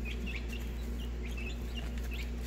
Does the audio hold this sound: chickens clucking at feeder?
yes